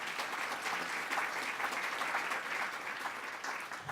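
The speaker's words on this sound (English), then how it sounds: "So I'm going to ask you a round of applause for that celebration." A room of people applauding together, a steady, even clapping that holds at a moderate level throughout without voices breaking through.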